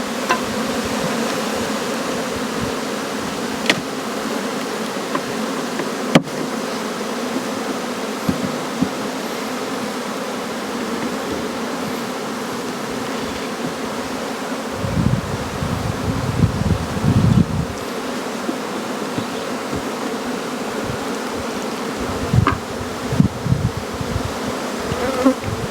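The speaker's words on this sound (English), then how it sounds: "she has to make sure all them bees get knocked out of that box." Honey bees buzzing steadily around a hive box in mid May, a dense continuous drone close by, with occasional bumps and rustles as the box is handled.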